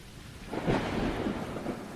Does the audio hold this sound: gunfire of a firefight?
no